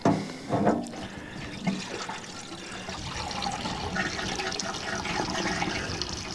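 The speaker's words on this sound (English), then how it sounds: "dump it back in the radiator" Liquid coolant is poured back into the radiator of an M151 jeep, a close, continuous splashing and gurgling pour that carries on steadily without pause.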